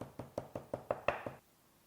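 Beef being pounded to tenderize it before skewering for hwayangjeok, a Korean skewered dish: seven quick, evenly spaced thuds close by, each sharp and then fading, the last a little louder, followed by quiet.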